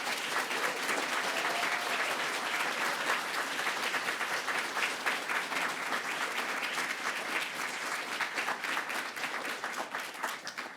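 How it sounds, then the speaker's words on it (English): Audience at the 2022-23 IPPF Awards Ceremony breaking into sustained applause, a dense, even wash of many hands clapping that holds steady for about ten seconds before tapering slightly, with no speech over it. "Can we please give them all a big round of applause?"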